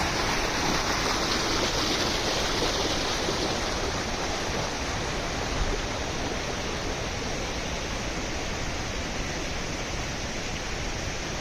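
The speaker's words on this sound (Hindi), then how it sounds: "झरना शायद बहुत ही नज़दीक है।" The Sajla waterfall rushes nearby as a loud, constant broadband roar of falling water, steady and unbroken with no voices.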